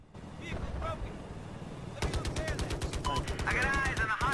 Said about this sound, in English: They're shooting from everywhere.